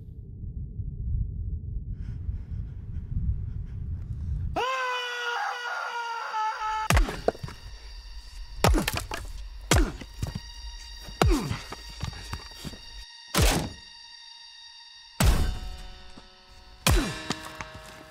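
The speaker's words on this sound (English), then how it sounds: "Why is she destroying her banjo?" A banjo being smashed and wrecked: a string of loud, sharp wooden cracks and jangling string clangs with ringing tones, each impact sudden and close, separated by brief pauses after a low rumbling opening.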